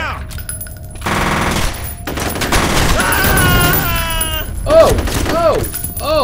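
Gunfire rattles in bursts in the F.E.A.R. video game, loud close shots amid shouting and chaotic game effects.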